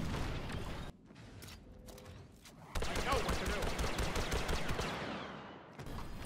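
Han Solo's DL-44 blaster from Star Wars Battlefront 2 fires in full-auto bursts, rapid close shots in two main runs separated by brief gaps, with mechanical clatter and game effects underneath.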